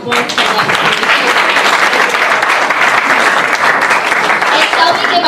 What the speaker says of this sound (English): And shall we give another applause to African institutional president?